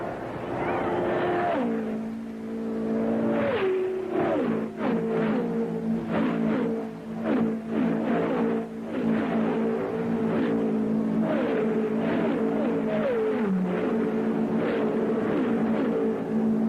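Race cars roar around the track at the 1975 Indianapolis 500, several engines screaming at high revs with repeated pitch drops as cars pass close by, loud and continuous throughout.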